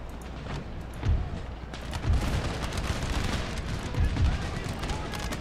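Deep booming cannon shots from a video game sound off about once a second or so, over a dense background of battle noise.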